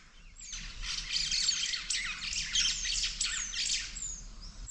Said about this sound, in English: And the birds, they are so loud.